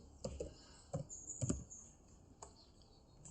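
Light, quiet keystrokes tap on a computer keyboard in short irregular bursts while an R script is written in RStudio, with brief pauses between clusters of clicks.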